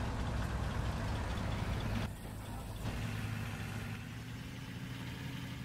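A vehicle engine in the Roblox game Civil War runs steadily at idle, a loud continuous low drone that dips briefly in the middle, with no talking over it.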